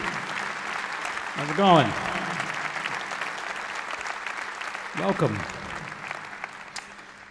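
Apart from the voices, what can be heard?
audience applause at a jazz concert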